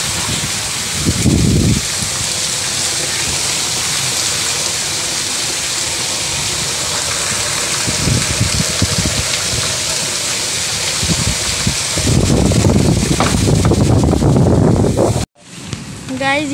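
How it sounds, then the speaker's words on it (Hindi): Steady, heavy rain roars continuously, with people talking briefly underneath and a sudden drop near the end. "ये देखो कितनी तेज बारिश हो रही है"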